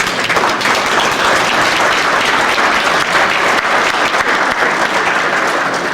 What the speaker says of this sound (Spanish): al doctor Hans-Ulrich Reuter, para quien pido un aplauso.